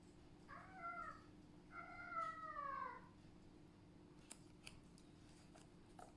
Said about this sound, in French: Il y a mon chat qui vous dit bonjour.